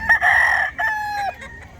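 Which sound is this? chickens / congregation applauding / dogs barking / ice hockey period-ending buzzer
chickens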